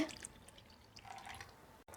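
A little water is poured into a cooking pot holding a cream and eggplant dish, giving faint soft dripping and splashing at close range that stops abruptly.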